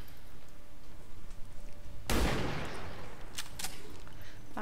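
A sudden loud gunshot burst in XCOM 2 Long War of the Chosen, followed by a decaying rumble and a couple of sharper later cracks over a quiet game background.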